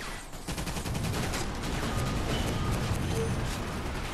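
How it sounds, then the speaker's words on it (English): Dense, rapid machine gun fire from the Toy Soldiers: War Chest video game rattles continuously, a busy crackling barrage layered with other battle noise and no clear talk. "The machine guns are pretty damn good on their own."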